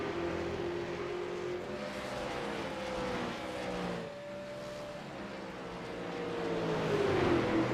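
Super Late Model race cars roar around Iowa Speedway, a continuous engine drone with shifting pitch as cars pass, swelling louder toward the end, heard from a distance with no voices.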